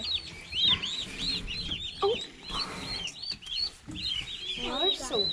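Baby turkeys and chicks peeping in a brooder, a steady chorus of high, close chirps with occasional clucking, heard alongside soft rustling and some human voice in the background.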